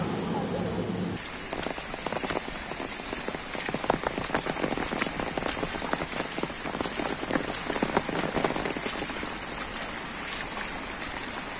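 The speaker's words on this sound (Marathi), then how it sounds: "मी इकडे पावसात आहे हा" Heavy rain pouring during flooding at Kasarvarne, Pernem, a dense continuous hiss of drops hitting surfaces, close and loud throughout, after a brief quieter moment at the start.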